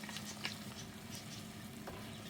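Onions and colored bell peppers stir-frying in a little oil for sweet and sour chicken, a steady close sizzle with a few soft stirring taps and no talking.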